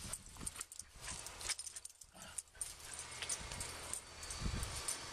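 A dog whimpers faintly outdoors, soft intermittent whines and shuffling movement with a few thuds, fairly distant and quiet.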